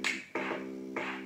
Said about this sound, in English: so now we have our drums and bass.